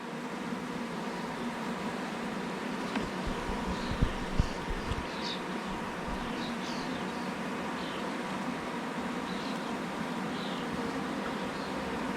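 A small honeybee swarm marches into a hive box, giving a steady, close buzzing hum that runs through the whole stretch, with a few faint louder thumps near the middle and no talking.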